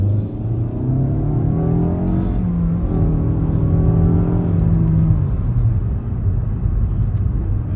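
A 2020 Nissan Altima SR with a CVT transmission, driven in manual sport mode, revs up steadily from inside the cabin. The engine tone climbs through a gear, dips at a shift, then climbs again over constant road rumble.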